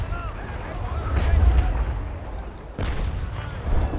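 Cannon broadsides from sailing warships in the video game Naval Action, a continuous wash of deep booming volleys with a fresh burst of fire partway through, loud and rumbling throughout with a voice heard over it.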